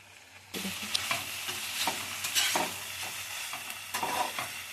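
A spoon works masala through green chilli chicken in a hot pan, giving a steady sizzle with irregular scraping and stirring clacks close by. No one speaks.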